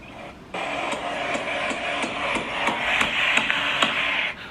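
Hammering heard on a played-back recording from a bedroom: repeated sharp knocks in an irregular rhythm over a steady fan-like hiss, moderately distant and fairly loud.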